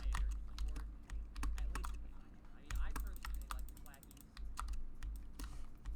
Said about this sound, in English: If you guys prefer, I could definitely invest in a slightly quieter keyboard, at least in the future. I mean, I personally like the clackies.